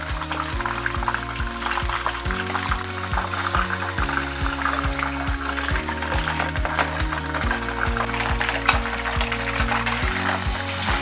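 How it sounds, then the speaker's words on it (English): Mackerel pieces frying in hot oil three at a time, a steady dense sizzle running throughout with a rhythmic low mechanical hum beneath, close and continuous with no talking. "So I'm going to be frying it 3 pieces at a time."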